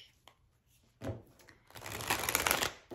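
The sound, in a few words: shuffling a herbology oracle card deck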